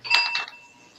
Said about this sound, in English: Johnny, you ready with the bell?